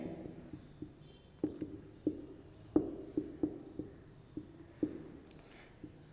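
Marker or chalk tapping and scratching on a classroom board, a dozen quick irregular strokes and taps in a quiet room with no talking.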